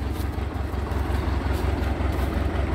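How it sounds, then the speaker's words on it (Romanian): A reconditioned UTB 650 tractor idles in a ploughed field, a steady low pulsing engine throb, close and moderately loud, with no talking. "Asta e tractorul, plug românesc, recondiționat."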